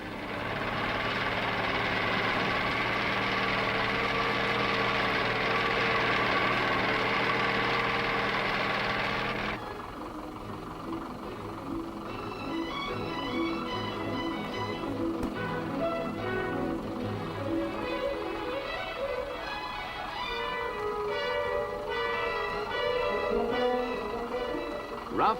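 A diesel-fuelled Land Rover from a vintage 1950s-era introduction runs with a steady, rumbling engine drone that shifts in tone partway through, continuous with no talk.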